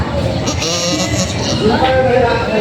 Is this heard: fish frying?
no